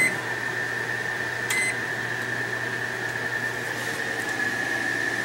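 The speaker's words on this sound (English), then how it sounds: "So let's see if we can fire the microwave on." A microwave oven powered by an Energizer eZV3200P portable generator runs with a steady loud hum and drone throughout, with a brief beep early on.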